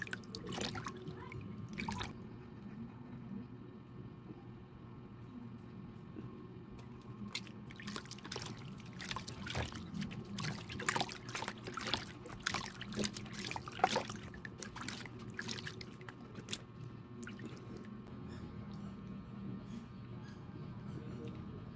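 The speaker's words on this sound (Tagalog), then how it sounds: "Habang hinuhugasan ko yung aking mukha" Water trickles and drips as a potato and lemon face scrub is rinsed off by hand, with soft, faint splashes and dribbles that come and go in an irregular rhythm.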